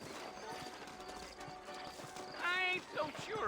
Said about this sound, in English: You ain't gonna find sturdier horses than these in all of New Orleans